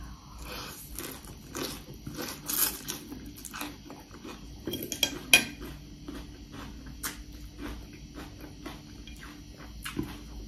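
Papaya and tamarind pounded in a mortar for a spicy salad, steady repeated thuds and clacks of the pestle with scraping, close and fairly loud.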